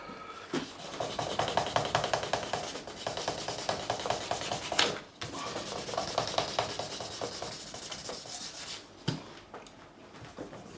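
Sandpaper rubs by hand across a Gibson SG Standard guitar during a refret, a steady close scratchy back-and-forth stroking with brief pauses.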